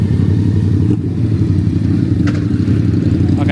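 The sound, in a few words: motorcycles arriving at a car show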